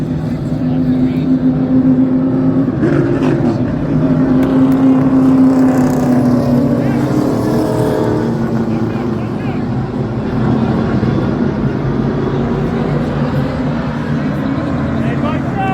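Super late model stock cars race on an oval track, their engines droning loudly and steadily throughout with a rising and falling pitch as cars pass, while voices talk over the roar.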